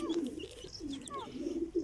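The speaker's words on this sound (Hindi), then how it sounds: "ਅੱਛਾ ਸਫੈਦ ਚਿੱਟਾ ਟੀਰਾ ਕਬੂਤਰ ਹੈ" A white pigeon coos at a farmhouse loft: low, repeated throaty coos close by, with faint bird chirps in the background.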